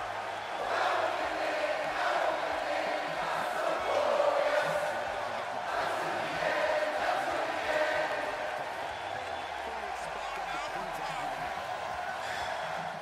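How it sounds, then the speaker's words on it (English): Crowd in the WWE 2K18 video game cheering for a wrestler at a Money in the Bank event, a sustained, dense roar from the arena with a commentator talking over it throughout. "you hear from the crowd, they love him"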